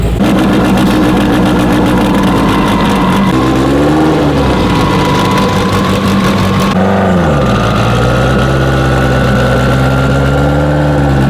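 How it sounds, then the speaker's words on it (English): A freshly built Acura Integra race car's loud, rough engine idling up close, its rumble rising and falling slightly as it runs steadily with no voices. "see my buddy Mike run his freshly built Integra"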